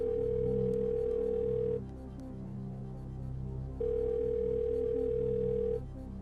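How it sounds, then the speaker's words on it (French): Telephone dial tone heard while placing a call on a French TV quiz show set: two long steady tones, each about two seconds, separated by a pause, loud and clear over a low background hum. "Très bien, appelons Henri."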